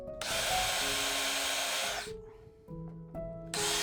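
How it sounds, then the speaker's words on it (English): A power drill countersinks screw holes in wood for a shooting board, giving a loud, high whine for about two seconds, then a pause with a faint hum, before a second burst starts up. "So a little countersink."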